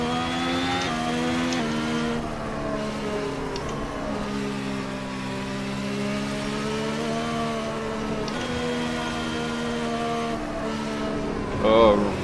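Ferrari SF70H Formula 1 car in the Assetto Corsa racing game on the Suzuka circuit, its engine droning steadily at high revs for a long stretch with pitch shifts through gear changes, and a brief burst near the end.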